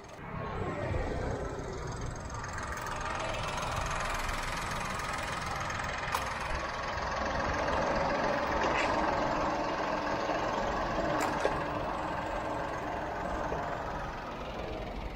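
A Suzuki S-Presso engine idles steadily and appears to be overheating, with a low rumbling drone and faint ticking knocks, continuous and close, with a couple of brief metallic clicks.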